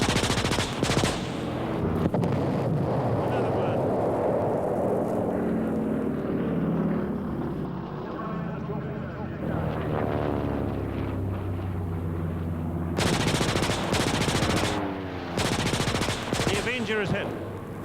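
Grumman Avenger warbird roaring past at the Warbirds over Wanaka airshow, a loud sustained propeller engine drone with rapid bursts of simulated gunfire and pyrotechnic crackle from a mock dogfight with Zeros.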